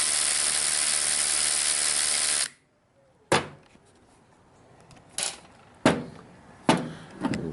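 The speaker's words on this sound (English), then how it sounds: "so I broke out the electric ratchet today" An electric ratchet whirs steadily for a couple of seconds while backing out 7mm screws during a starter repair, then stops, followed by several sharp clicks and clunks of the tool and parts nearby.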